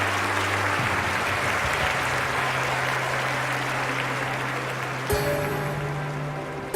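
Steady applause fills an Olympic stadium crowd in the London 2012 video game, a dense continuous clatter of clapping with sustained tones underneath and a slight shift partway through before it eases off.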